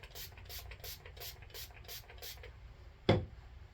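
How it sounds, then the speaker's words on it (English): A quick series of about seven soft hissing bursts from a spray bottle onto a cotton pad in steady rhythm, close by, followed by a brief louder thump. "I'll spray it on the cotton pad."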